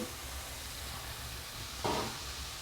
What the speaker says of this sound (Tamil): இதை வதக்கலாம் நெய்யிலே அப்படியே வதக்கி விட்ருக்கேன்